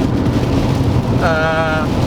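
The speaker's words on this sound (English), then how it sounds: "pouring down with rain" Heavy rain pours on an automatic four-wheel drive with a 2.4-litre engine cruising at 110, heard from inside as a loud, constant roar mixed with road and wind noise and a brief tonal whine partway.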